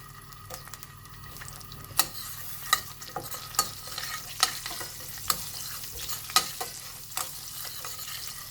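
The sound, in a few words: butter, cumin seeds, chili flakes and garlic frying, stirred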